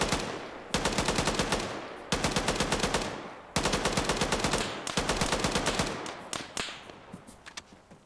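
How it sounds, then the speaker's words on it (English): Machine gun fire in a World War II-era tactical video game: three long, close, rapid-fire bursts, each a dense rattling stream, followed by a few scattered single shots trailing off. "A little bit of machine gun fire going out."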